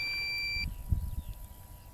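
A DJI Phantom 3 drone sounds its low-battery warning: one steady, high electronic beep lasting just over half a second, then cutting off into faint background noise, with no voices.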